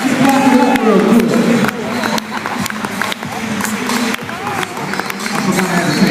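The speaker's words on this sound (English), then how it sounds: "Let's clap it up real quick." A crowd in a room clapping along in uneven bursts, with voices talking and calling out over the applause.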